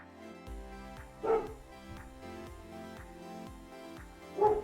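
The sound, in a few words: dog barking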